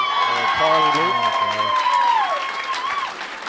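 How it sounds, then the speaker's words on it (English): Applause from a golf gallery at a collegiate team match-play championship, a steady patter of hand claps with a few voices and tonal sounds mixed in, moderately close and lasting throughout. "Everybody giving a hand clap, joining in for Carly Luke."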